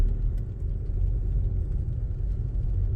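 A learner driver's car pulling away slowly in a traffic jam on a hill, with a low, steady engine rumble close by and no talk.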